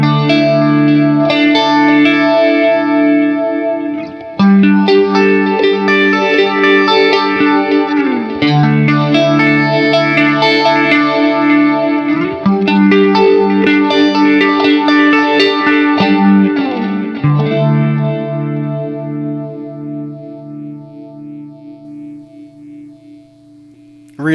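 Sustained electric guitar chords ring through a Boss Katana amp with a swirling chorus-like modulation and some grit, changing chords several times before fading out.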